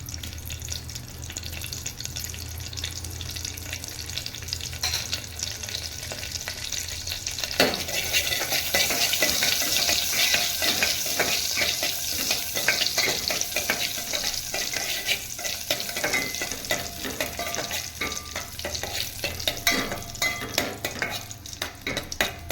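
Hot oil crackles and sizzles, growing louder after a quiet start as spices are tempered in the pan for a Tamil coconut milk dish, with occasional stirring clinks.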